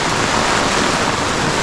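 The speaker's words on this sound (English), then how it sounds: "But you can see how much it is raining." Heavy tropical rain pours down in a dense, loud, unbroken roar, a close downpour drumming steadily with no voices.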